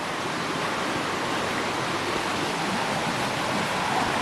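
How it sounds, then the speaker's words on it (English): A forest stream at a swimming hole in Pisgah National Forest, a steady close rush of flowing water with no pause, loud and unbroken throughout. "Nice little swimming hole right here."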